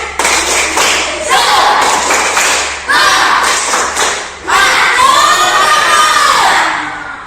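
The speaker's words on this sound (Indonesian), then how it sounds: "Ayo kita tepuk semangat dulu." A group of schoolchildren perform a rhythmic spirit clap in a classroom, bursts of patterned clapping and thumps alternating with loud shouted chanting, ending in a sustained cheer, close and energetic.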